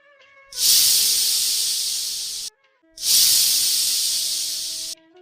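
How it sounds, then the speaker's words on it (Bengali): Two long, loud hissing whistles from a pressure cooker cooking chicken stew, each about two seconds, separated by a brief pause, close and with no voices. "প্রেশার কুকারটা লক করে দিয়ে এখন আমি এখানে তিনটি সিটি মেরে নেবো"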